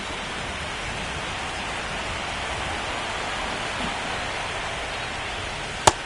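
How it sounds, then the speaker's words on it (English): Steady, dense rain falls throughout a rainy baseball game in MLB The Show, a continuous even hiss with one brief sharp tick near the end and no voices. "It really feels like we might be running out of time before a rain delay is called. This rain is not letting up."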